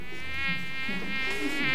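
A mosquito buzzing close by, a steady high-pitched whine that wavers slightly in pitch without pause.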